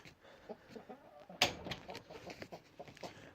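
Chickens cluck in a backyard chicken pen, a steady scatter of short clucks near and far with one sharp louder squawk partway through.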